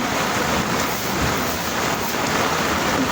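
Heavy rain falls in a steady, dense roar during a flood in a residential subdivision, continuous and close with no voices.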